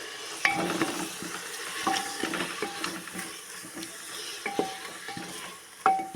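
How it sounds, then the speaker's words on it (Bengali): Ginger garlic paste fries in a pan with tomato for a drumstick and potato curry, a soft close sizzle under scattered scraping strokes of a spoon as it is stirred, fairly quiet throughout. "এই যে আদা রসুনের পেস্ট দিয়ে দিলাম"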